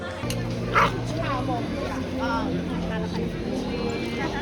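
Dogs yip and whimper in a crowded Chinese pet shop, short high cries over a steady background hum and nearby chatter of people talking.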